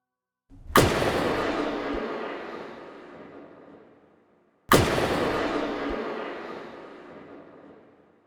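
Two heavy, booming video game weapon blasts layered with a kick drum, each with a long decaying rumbling tail, spaced about four seconds apart, like a powerful weapon firing.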